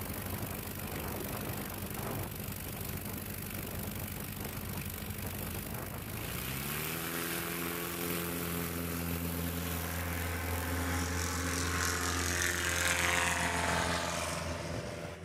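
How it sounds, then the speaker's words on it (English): A STOL aircraft takes off at a Lonestar STOL practice event, its engine starting as a moderate broadband roar and then swelling into a strong, rising tonal drone that grows steadily louder as the plane powers away. "Takeoff was so great it blew the hat off one of the line judges."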